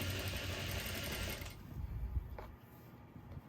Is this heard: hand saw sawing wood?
no